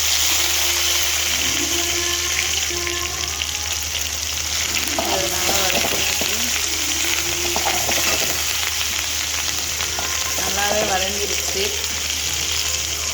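Small onions, green chillies and curry leaves sautéing in a pan for a soya-chunk gravy, a loud, continuous close sizzle with stirring scrapes throughout and a faint voice briefly in the background.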